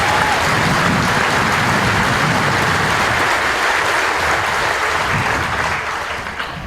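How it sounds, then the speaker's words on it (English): Loud sustained applause from a graduation ceremony audience honoring military families, a thick continuous roar of many hands clapping that tapers off toward the end. "So please join me in a round of applause for our military families."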